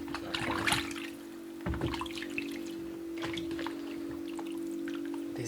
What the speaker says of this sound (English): I have some water here to rinse.